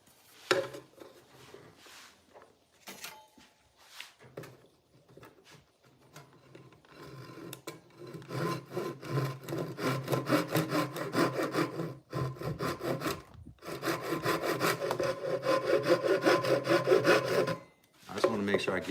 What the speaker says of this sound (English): I've never tried this before with a handsaw.